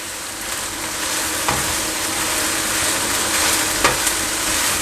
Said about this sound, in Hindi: इसको मज़ीद 1 मिनट तक मैं सौटे करूंगा